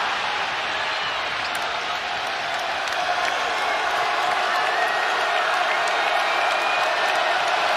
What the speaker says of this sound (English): Largest crowd in Bud Walton Arena history, most on their feet.